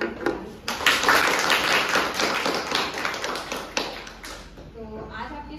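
Students in a school hall clap to welcome guests, a dense patter of many hands filling a few seconds before fading, with a speaker's voice audible over the clapping.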